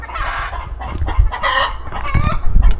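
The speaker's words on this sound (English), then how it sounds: "The chickens are definitely celebrating." Backyard chickens clucking and squawking excitedly, several birds overlapping in a loud, busy, close chorus with no talk.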